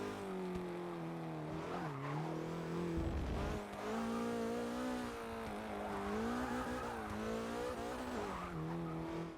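A Porsche 944 Turbo in Forza Motorsport 6 revs hard with tires squealing in wheel spin, the engine note rising and falling through short gears under a steady screech, loud and close.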